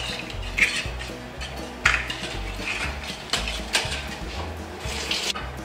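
Ingredients for a tomato and bacon flan mixed in a bowl, with repeated clinks and scrapes of the utensil against the bowl over a low steady background.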